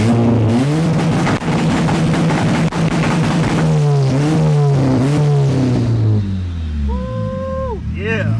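A boosted Honda Accord with an F23 engine revs hard in repeated climbing pulls, the engine note rising and dropping loudly and close, then falls away to a quieter idle near the end; voices shout over it.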